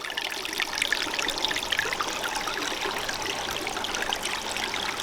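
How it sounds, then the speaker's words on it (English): River water pours steadily into a small basin beside a sandbar, a continuous close trickling and splashing with bright bubbling texture and no voices. "Then you can see where the water dumps into this little basin."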